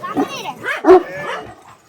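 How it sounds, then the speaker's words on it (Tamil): A dog barks a few short, close yips and woofs at a roadside spot, mixed with nearby voices talking. "இது என்ன மாமா நாய் இது?"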